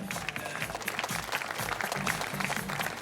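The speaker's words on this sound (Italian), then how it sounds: "gli artisti capiscono subito e quindi ci prendono il loro applauso" An audience applauds performers on stage at a concert, a dense, steady patter of many hands clapping close by for the full length, with a few voices faintly mixed in.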